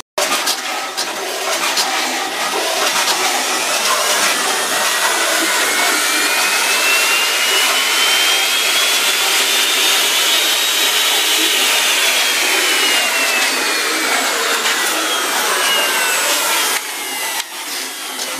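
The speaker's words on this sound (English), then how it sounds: "It's off. And it's still going. That's a sander." An electric sander keeps whirring after being switched off, a loud steady broadband motor noise with a slowly rising and falling whine that runs almost the whole time before cutting back near the end.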